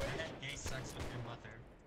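Musket gunfire in the Holdfast: Nations at War video game, several rapid cracking shots from a line of soldiers in a dense, noisy battle mix.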